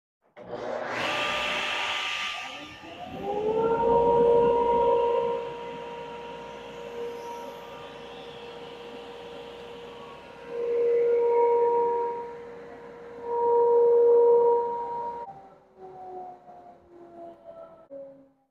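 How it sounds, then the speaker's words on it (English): A table saw and its connected dust collector switch on in a home workshop, a loud steady motor whine with humming tones swelling and easing over about fifteen seconds before winding down, with no talking. "when I power on my table saw"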